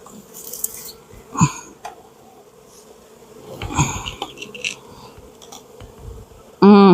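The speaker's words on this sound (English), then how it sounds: "There's so many bees in there." Honey bees buzz around a hive in close, uneven bursts with scattered clicks and knocks, ending in a louder, sustained drone.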